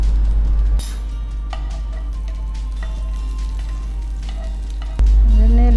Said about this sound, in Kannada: ಎಣ್ಣೆಯಲ್ಲಿ ಫ್ರೈ ಆಗಬೇಕು